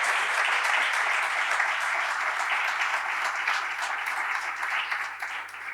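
Steady applause from an audience at an awards night for communication in Tortosa, a dense even wash of clapping that fills the whole stretch and eases slightly at the end, with no talk over it.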